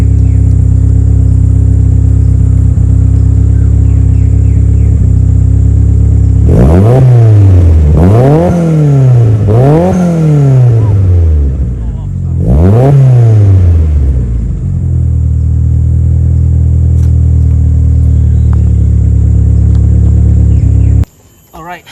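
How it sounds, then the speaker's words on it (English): A 2000 Mitsubishi Lancer Evolution 6 Tommi Makinen Edition engine revs up sharply three times in quick succession, each rise and fall of pitch clear and loud over a steady idle, then settles back to idling. "I will rev it a little bit"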